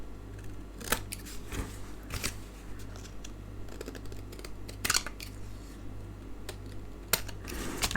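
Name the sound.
trimming excess card pieces with scissors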